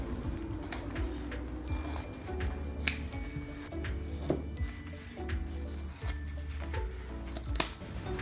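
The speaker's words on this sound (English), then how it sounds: "This is the absolute best part of the video, the jeans. I'm just gonna cut straight into this." Scissors snip through jeans in a repeated rhythm of crunching cuts with low rustling of denim between them, close and fairly quiet.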